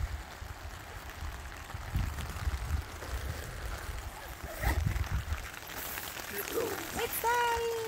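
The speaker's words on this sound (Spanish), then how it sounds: "Y no para de llover." Steady rain falls outdoors at a campsite near Buckeye Hot Springs, a continuous broadband hiss with occasional louder spatters and thumps, while muffled voices and handling sounds come and go in the background.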